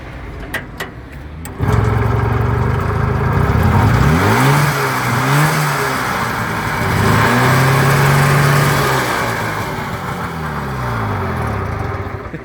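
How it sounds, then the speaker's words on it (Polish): A car engine fires up abruptly and revs loudly several times, rising and falling in pitch, then settles into a throaty idle. "to naprawdę nie jest cichy samochód"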